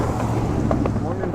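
Strong wind buffeting a microphone outdoors near the river and yacht club at Ormond Beach, a loud steady rumbling roar with a few soft knocks.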